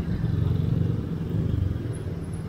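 A motorcycle engine idles steadily nearby, a low throbbing putter with an even mechanical rhythm and light clatter, running alone without speech.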